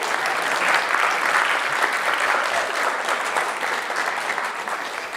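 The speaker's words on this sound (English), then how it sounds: "let's do another round of applause for Mr. Stone." Sustained audience applause at a talk by an award-winning writer and essayist, a steady dense wash of clapping that holds loud for the whole stretch and eases slightly toward the end.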